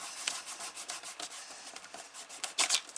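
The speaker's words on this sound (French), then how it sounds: "je vais gommer." Pencil marks on a wooden board rubbed out with an eraser, a close, quiet scrubbing in quick uneven strokes that grows briefly louder near the end.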